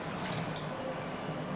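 Water poured into a mixer jar in a home kitchen, a short steady trickling and splashing stream, close and fairly quiet, with no talk.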